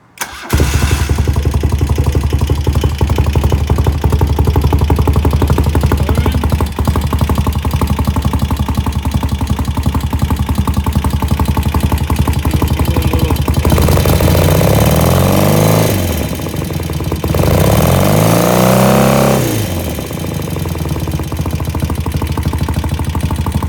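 A BMW R75 Airhead restomod motorcycle engine catches right away and runs loud and close throughout, holding a steady idle before a couple of throttle blips raise and drop its pitch near the end.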